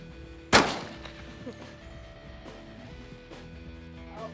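A shotgun fires a single loud, close blast at a clay target on a shooting range, followed by a fading echo and low background chatter.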